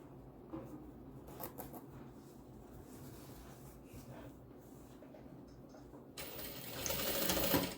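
A sewing machine stitches a fabric tote bag with backstitching, giving short, quiet bursts of whirring separated by pauses, followed by a louder rustle near the end.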